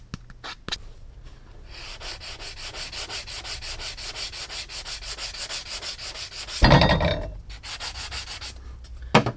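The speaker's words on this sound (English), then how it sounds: "I use a sanding block just like this." Steady rhythmic sanding strokes with a medium to fine grit sanding block on a leather cap toe oxford shoe, close and scratchy, repeating in even back-and-forth passes, with a louder rough scrape near the end.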